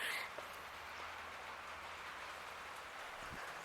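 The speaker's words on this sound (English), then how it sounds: "it's raining pretty good" Rain falls steadily outdoors as a soft, even hiss, fairly faint and continuous, with an occasional low thump.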